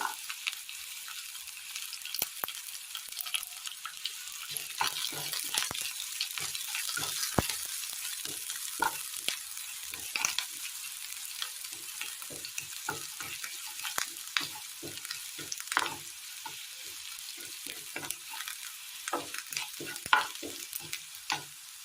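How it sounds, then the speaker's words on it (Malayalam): Mustard seeds, shallots and garlic frying in hot coconut oil give a steady close sizzle, with sharp crackles and pops from the spluttering seeds and occasional stirring scrapes throughout. "ചൂടായ വെളിച്ചെണ്ണയിലേക്ക് കടുകിട്ട് കൊടുക്കാം കടുക് പൊട്ടിക്കഴിയുമ്പോൾ ചെറിയ അരിഞ്ഞ് ചേർത്ത് കൊടുക്കാം"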